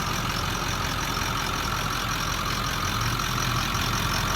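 A 2003 Ford F-250 with the 7.3L Powerstroke turbo diesel V8 idles steadily at close range, a constant low rumble and clatter that holds unchanged for the whole stretch with no voices over it.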